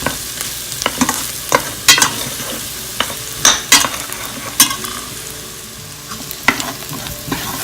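Madras curry with salmon frying in a pan, a steady sizzle broken by irregular scraping clicks of a utensil stirring the pan, fairly close, no talk.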